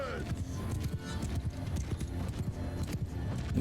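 Cavalry horses gallop in a Mount & Blade II: Bannerlord battle with Aserai forces, a dense, steady run of hoof clip-clops under constant battle noise and a speaking voice.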